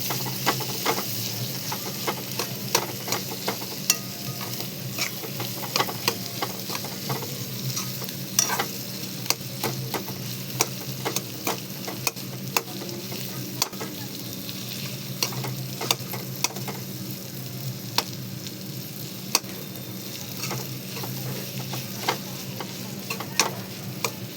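Fish roe for bhurji is broken up and stirred in a sizzling pan, with a constant frying hiss and frequent sharp scraping clicks of a spatula, close and steady, with no talking.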